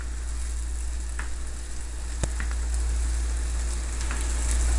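Onions frying in a cast iron pan for a liver dish, giving a steady, even sizzle that stays close and constant, broken once by a single sharp tap.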